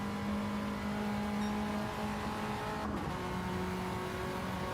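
A GT3 race car in a sim racing game holds a steady high engine note, then briefly dips as it shifts up into a higher gear and carries on at a constant, loud drone, with no voices.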